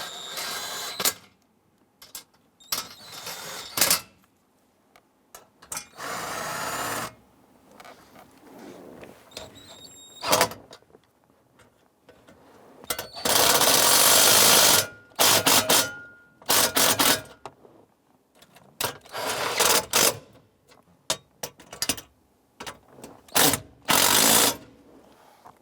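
Screws are snugged down on a 1995-2001 Ford Explorer dash cluster, giving a series of sharp mechanical ratcheting bursts, some short and some drawn out, separated by quiet gaps, close up.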